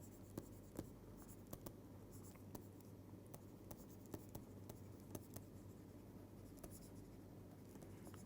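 Equations written out by hand, a quiet, steady scratch of pen or chalk strokes with small sharp ticks at irregular intervals, close up and faint, with no talking over it.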